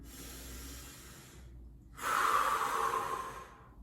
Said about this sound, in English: Let's take 3 deep breaths, we can do it.